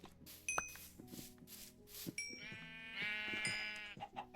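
Sheep bleat in a video game, several overlapping calls rising and falling over a steady background of game ambience and chimes, loud and close.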